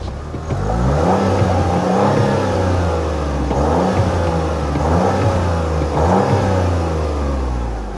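Buick Encore GX Avenir engine revving, picked up near the rear exhaust tip: three or four rising rev pulls with a whirring engine note, each climbing then dropping, loud and close.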